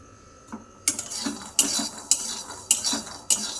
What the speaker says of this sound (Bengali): আর এদিকে আমি বাদামগুলোকে একটু ভেজে নিচ্ছি